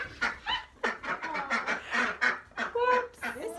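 Several ducks quacking and honking close by in rapid, overlapping bursts, a busy chorus of nasal calls.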